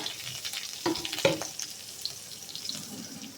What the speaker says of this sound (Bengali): তেল গরম হয়ে গেছে, একটু জিরে হাতে ঘষে দিয়ে দিচ্ছি। আর দেব রসুন, পেঁয়াজ কুচি